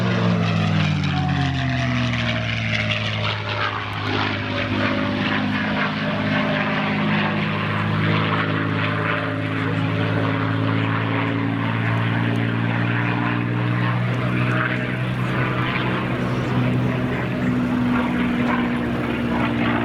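A P-51 Mustang propeller fighter flies an aerobatic demo at the First State Airshow at Dover AFB, its loud, continuous engine drone holding steady with slight pitch shifts throughout.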